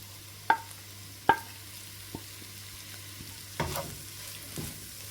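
Fish masala for a Kerala fish podimas being stirred in a pan, with a soft continuous sizzle broken by a few sharp clacks of a spoon against the pan and some scraping near the end.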